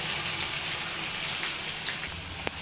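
Onion pieces dropped into hot oil already holding fennel seeds and cinnamon, giving a steady close sizzle and crackle throughout with no talk.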